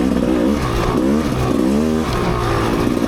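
A Rieju MRPro 300 dirt bike engine revs on a forest trail, the pitch climbing and dropping in repeated throttle surges, loud and close with a steady mechanical clatter underneath.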